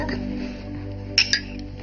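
Two wine glasses clink together in a toast, two quick bright chimes in rapid succession over a steady low background hum.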